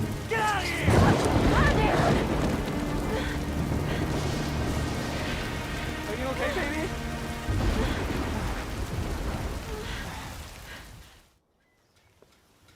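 Heavy rain with rumbling thunder from a storm over an island, a steady loud wash that fills the scene and cuts out abruptly near the end, with people talking over it.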